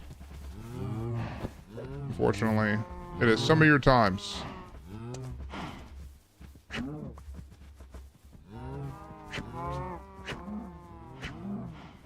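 Cows low loudly in long, drawn-out moos, several calls overlapping at close range, while a voice speaks briefly and faintly beneath them.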